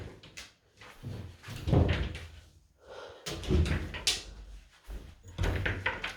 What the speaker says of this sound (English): Just going to open the wardrobe.